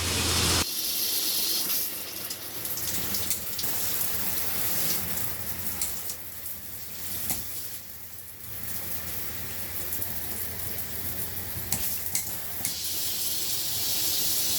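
Steady hissing spray of water from a newly installed Oxygenics Fury RV shower head on an RV water pump, continuous and fairly loud with small fluctuations throughout.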